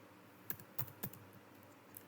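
Computer keyboard keys tapped while entering a command in STATA statistics software, three or four quiet separate clicks spaced through a short stretch with nothing else around them.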